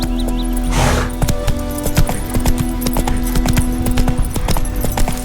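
Horse hooves clip-clop steadily through the whole stretch in The Witcher 3, a close, repeating rhythm over a constant low game ambience.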